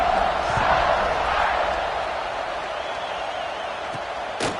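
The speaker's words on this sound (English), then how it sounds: "this crowd now ready to get behind them" Broadband stadium crowd roar in a football video game just before a kickoff, a steady sustained swell of cheering that eases slightly over a few seconds, with a brief sharp hit near the end.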